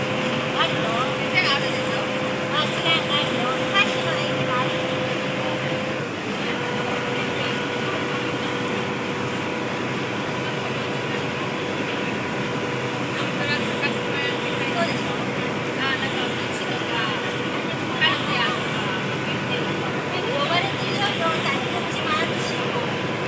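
Wooden three-deck dinner boat cruising at night on the Chao Phraya River in Bangkok, a continuous low engine drone with water wash and steady hum, while people talk over it throughout.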